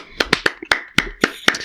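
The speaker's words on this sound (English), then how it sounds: "give a round of applause for our good friend Michael." A handful of sharp, separate hand claps from a small group in a podcast studio, about eight of them at an uneven, quickening pace, close and fairly loud.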